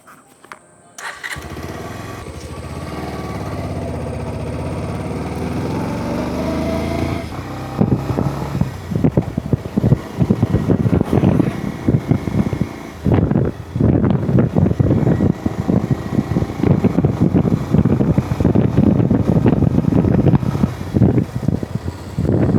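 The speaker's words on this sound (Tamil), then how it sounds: "இப்போ இந்த பல்சர் 150 வந்து ட்ரைவ் பண்ணி பார்த்துருவோம், எப்படி பர்ஃபார்மன்ஸ் இருக்குது பார்த்துருவோம்." A 2026 Bajaj Pulsar 150 motorcycle starts up, idles, then is ridden, its engine note rising and pulsing with throttle changes under steady wind noise, loud and close throughout.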